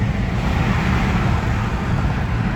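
Steady roadway roar of highway traffic as an old 1990s Honda with a double exhaust passes, a continuous broadband rumble with no distinct peak, fairly loud and close throughout.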